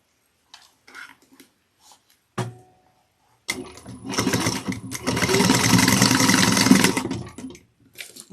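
A sewing machine stitches folded bag pieces with a 3/8-inch seam for a fold-over cross-body bag, starting with short quiet bursts and then running as a steady, close, continuous whir for about three seconds before stopping.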